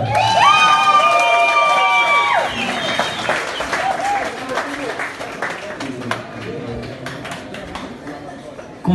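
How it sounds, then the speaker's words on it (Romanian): Wedding guests clap and cheer loudly for a couple's first dance as husband and wife, a sustained burst of applause with shouts, while a band's tune and an announcer's voice carry over it. "Vă rugăm să-i mai aplaudați odată."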